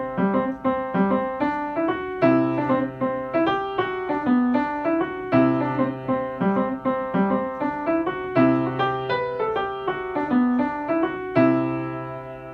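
Irish jig tune, the Moon Coin Jig, set in Lydian mode, played on a sustained tonal instrument in a steady lilting triple rhythm with a held low drone under the melody, close and clear with no talking.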